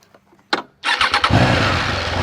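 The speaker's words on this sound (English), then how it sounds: "let's go ahead and hear how this bike sounds with the stock exhaust" A Triumph Trident 660 motorcycle on its stock exhaust cranks briefly, then fires and catches into a loud, steady idle close by, with a few quick revving pulses as it settles.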